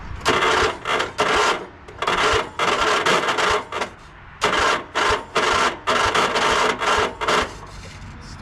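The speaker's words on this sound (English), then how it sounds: "Starter doesn't sound very good." A weak starter cranks an old tractor engine in repeated grinding bursts, each about half a second long and separated by short gaps, loud and close, with no engine catching.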